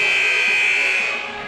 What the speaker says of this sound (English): And they hear the buzzer and they scatter.